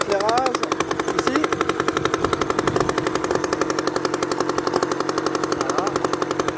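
A 1959 Solex 1400 moped engine running at a steady fast putter, close and fairly loud, with a few brief higher whines near the start and a voice speaking in the background.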